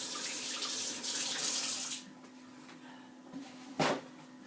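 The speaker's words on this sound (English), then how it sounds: "And then I rinse my hands again so I can roll the cookies." Hands rinse under a running kitchen tap between rounds of rolling cookie dough, a close hiss of water for about two seconds, then quiet with a brief splash or clatter near the end.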